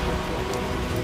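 Steady rain pours down in an outdoor scene from a Hindi drama, a dense even hiss of falling water with no breaks and no voices over it.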